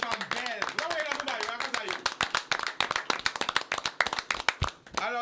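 An audience claps and applauds women in dense, rapid bursts of handclaps that run for several seconds and thin out near the end.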